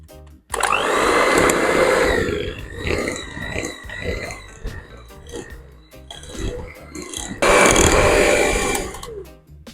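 An electric mixer whirs steadily while beating cream cheese frosting, the motor droning loud and close with pitch shifts and thumping as the thick mixture is worked, easing off in the middle then surging again.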